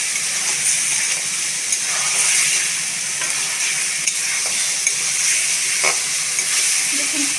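A steady, loud sizzle of fried potatoes and turmeric sautéing in a pan for katla fish curry, broken by occasional soft clinks and scrapes of stirring.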